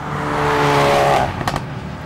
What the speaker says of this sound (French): Le 4 cylindres turbo a une santé incroyable et en plus il fait un joli bruit